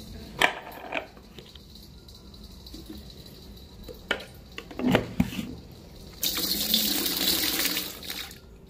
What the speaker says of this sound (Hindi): थोड़ा सा पानी डाल के इसको मैं भिगो देती हूँ